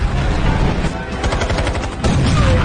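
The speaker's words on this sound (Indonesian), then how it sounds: "terjadilah baku tembak yang sangat epik" Dense, loud gunfight from a Jason Statham action film, rapid overlapping gunshots in a continuous volley with explosive thumps, no speech.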